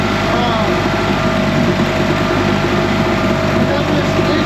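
A Mercury outboard motor runs at a slightly high idle, a steady, loud, close engine drone with an even low rumble and no change in pace.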